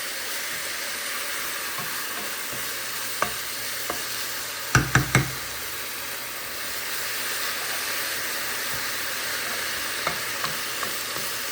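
Garden greens cooking in pure mustard oil while salt is stirred in: a continuous near sizzle and hiss, with a quick cluster of spoon knocks against the pan midway and a few lighter taps later.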